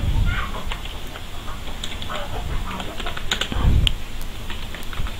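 Typing on a computer keyboard while writing JavaScript code, a run of quick close key clicks with a heavier thump partway through, under someone talking.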